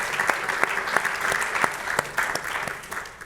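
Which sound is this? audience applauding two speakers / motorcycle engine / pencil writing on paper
audience applauding two speakers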